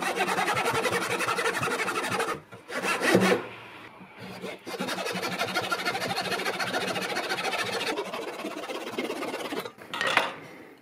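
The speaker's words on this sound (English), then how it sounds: "Now we can take the rest of the material off, again cutting just outside of the line" A hand saw cuts wood for a hurdy gurdy buzzing bridge, or chien, in steady rasping strokes, close and continuous, pausing briefly a few times before resuming.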